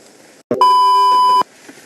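A phone gives off a single steady electronic beep, loud and close, holding for nearly a second before cutting off cleanly, with quiet room tone before and after.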